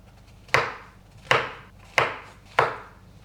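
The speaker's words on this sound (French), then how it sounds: "je vais juste les couper en deux ou peut-être en 4 pour vraiment les gros champignons" Four crisp knife chops on a cutting board as mushrooms are cut into halves or quarters, evenly spaced and close, each a sharp thud with a short tail, no talking.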